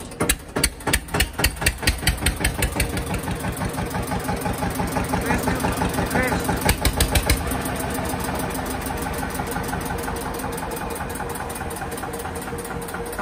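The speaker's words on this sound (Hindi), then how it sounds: "self start tractor" A self-start 2006 tractor's diesel engine thumps to life with a few heavy knocks, then settles into a steady, rapid chugging idle close by.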